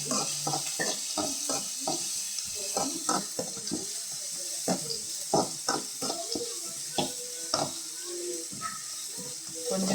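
Tomatoes with turmeric powder being stirred and sautéed in a pan: close, repeated spoon scrapes and knocks in an uneven rhythm over a soft continuous sizzle, with no voice.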